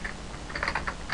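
Keys clatter on a computer keyboard in a quick, uneven run of close, crisp taps while text is entered into a login form.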